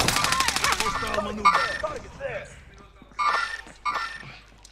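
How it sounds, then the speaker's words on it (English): Gunfire in Call of Duty Warzone, a dense volley of rapid shots at the start followed by scattered single cracks and bursts, with excited voices talking over the action. "I am under fire."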